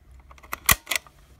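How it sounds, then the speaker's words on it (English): A Polaroid EE 100 Special instant camera's shutter fires once, a short close mechanical snap followed by a small second click, quiet and isolated. "So that is the demonstration for the shutter working."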